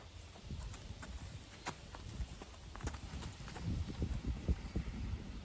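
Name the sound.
horse hooves walking back and forth across a tarp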